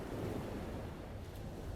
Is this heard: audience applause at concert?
no